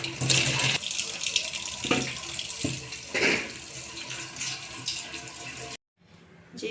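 Potatoes are washed under a running tap for dahi bhalla, a steady rush of water splashing into a sink with a few louder splashes, then a brief cut to near-silence before the flow resumes quietly.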